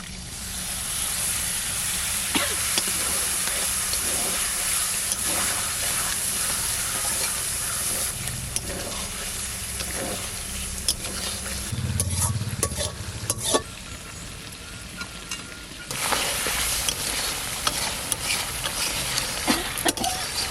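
Mutton sizzles and fries steadily in a pan while broth is poured in for a village-style mutton polao, with a stirring spoon scraping and clinking throughout and a brief louder bubbling burst partway through.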